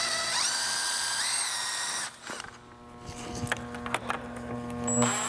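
Screw gun with an Allen bit spins on a fork cartridge bolt of a Harley-Davidson 43mm fork, a high whining drill for two seconds, then clicks and clatter as the bolt comes free.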